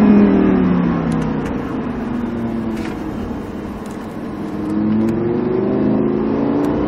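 Lamborghini Huracan accelerating hard on a race circuit, heard from inside, with rising engine tone through gear shifts, dipping and then climbing again, loud and steady.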